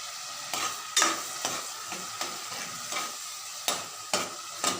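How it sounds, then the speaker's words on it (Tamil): Onions and tomatoes sauté in a pan for mutton curry, a soft sizzle broken by repeated spoon scrapes and knocks against the metal, roughly every half second or so. "வெங்காயம் தக்காளி நல்லா வதங்கட்டும்"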